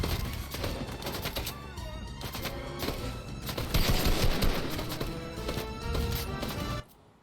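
Rapid bursts of gunfire in a battle royale video game, dense overlapping shots in quick succession for several seconds before cutting off abruptly.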